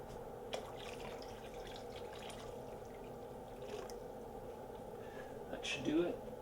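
Water runs into a canning pot for peach jars, a steady faint trickle and pour with a brief louder splash near the end.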